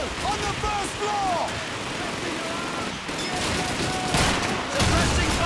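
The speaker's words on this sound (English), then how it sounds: "There's an MG-42 at the end of this road!" MG-42 machine gun fire in the video game Call of Duty 2, dense continuous battle gunfire with bursts and shots layered over shouting soldiers, loud and sustained throughout.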